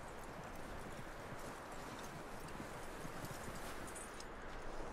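Steady clip-clop of a horse's hooves in the video game Red Dead Redemption 2, walking at a brisk, even rhythm, fairly close, with a broad rustling background and no talking.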